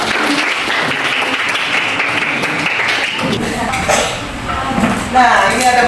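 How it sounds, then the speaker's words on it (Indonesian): Applause from a classroom group during an Indonesian lesson, dense clapping for about three seconds that thins into scattered claps and room noise with some voices. "Oke, tepuk tangan dulu."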